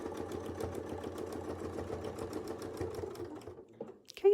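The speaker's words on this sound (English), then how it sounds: "And then we'll just sew back around to the other side." A sewing machine stitches around a template with a steady, quiet, rapid mechanical whir for about three seconds, then slows and stops, leaving a few faint handling clicks.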